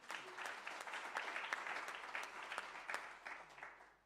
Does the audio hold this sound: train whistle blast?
no